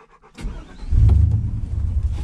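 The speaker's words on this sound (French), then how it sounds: "Et ça, c'est le bruit du V8" A GMC motorhome's V8 engine idles and rumbles close by as a steady low drone, swelling louder about a second in and holding there with no talk over it.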